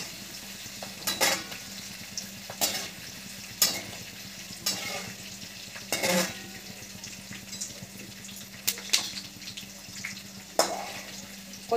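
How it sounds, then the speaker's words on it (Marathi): Roasted chana dal frying in oil for a crispy puffed-rice chivda, a steady low sizzle with intermittent sharper scraping stirs recurring every second or two. "हे भाजलेले असते त्याच्यामुळे याला जास्त काही वेळ लागत नाही डाळवे तळून घ्यायला"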